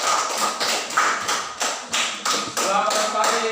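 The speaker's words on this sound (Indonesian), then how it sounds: "kita tepuk tangan untuk kelompok 3" A class group claps in a rhythmic pattern for group 3 inside a room, with short bursts of hand claps repeating at an even pace, fairly close and moderately loud.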